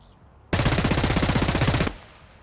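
Escape from Tarkov weapon firing a rapid full-auto burst of loud shots lasting over a second, then stopping abruptly into a quiet tail.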